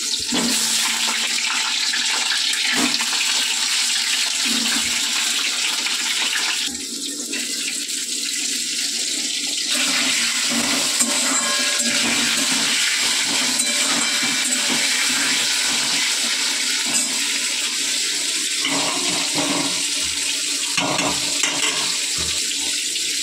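Potatoes for khichuri sizzle steadily in hot oil, a dense, continuous frying hiss that holds at an even level throughout with no one talking.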